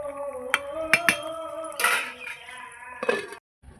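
A metal lid is set back onto a cooking pot of fish curry, giving a few sharp clinks and a brief clattering rattle with ringing metallic tones, close and clear before falling silent.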